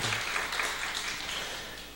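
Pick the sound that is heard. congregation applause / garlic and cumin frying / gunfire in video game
congregation applause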